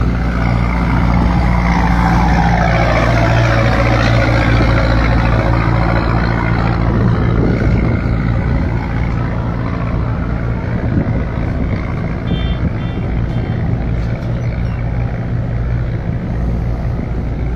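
Fishing trawler engines throb on the Muriganga river on the way to Gangasagar, a loud, continuous low drone that holds steady throughout, with water and wind noise layered over it.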